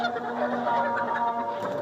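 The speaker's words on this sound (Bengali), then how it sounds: "দেখতে পাচ্ছেন আমাদের লেয়ার মুরগির" Layer chickens in a poultry shed create a dense, continuous clucking chatter from many birds at close range, with no speech.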